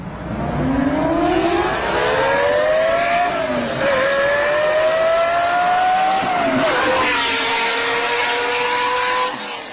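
A car with a large-displacement combustion engine accelerates hard, the engine note climbing in pitch, dropping at two gear changes and climbing again, loud and close throughout with no talking.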